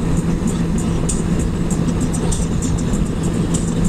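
Loud, constant wind roar from riding a Honda Goldwing F6B motorcycle at speed with the helmet visor up, layered over a steady engine drone, with light ticking sounds scattered on top.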